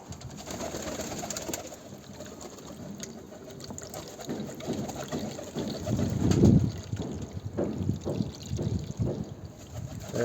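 Water poured from a plastic drinker-filler into a pigeon drinker, a soft trickling and splashing that swells midway, with pigeons faintly cooing nearby and no talk.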